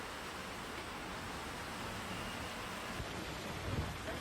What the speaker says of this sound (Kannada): ಭಾರಿ ಮಳೆ ಆಗಿದೆ. ಗುಡುಗು ಸಹಿತ ಮಿಂಚು ಕೂಡ ಬಹಳ ದೊಡ್ಡ ಮಟ್ಟದಲ್ಲಿ ಆರ್ಭಟಿಸ್ತಾ ಇತ್ತು.